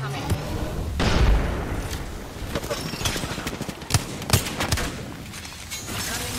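Gunfire and booming shots in the battle royale video game Apex Legends, a loud scattered mix of bursts and impacts mingled with other game effects throughout.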